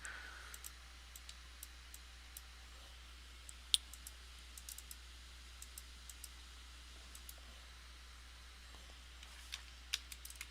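Computer keyboard keys clicking sparsely and irregularly during PC play of Warhammer Odyssey, faint isolated taps over a quiet hum with no talk.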